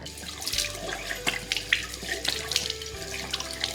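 Water runs steadily from a tap into a sink, with intermittent splashing as it is scooped onto a face to check how well BK Acne powder holds up, continuous and close with no talking.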